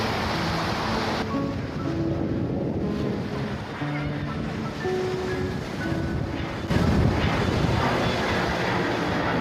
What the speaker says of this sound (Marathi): हा वायझॅगचा समुद्र आहे. आपण आता आरके बीचवर आहोत.